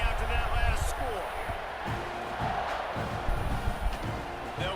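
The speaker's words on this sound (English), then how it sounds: "this crowd is buzzing after that last score" Stadium crowd in EA Sports College Football 26 murmuring and roaring in a continuous dense wash, with occasional thuds and shouts, under a commentator's talk.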